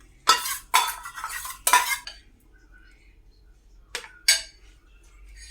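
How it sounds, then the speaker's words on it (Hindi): A spoon clanks and scrapes inside a pot while home-cooked food is mixed before tempering is added, with three sharp metallic strikes in quick succession, a pause, then two more, loud and close. "इसको कर लेंगे अच्छे से मिक्स, डालेंगे इसमें ऊपर से तड़का।"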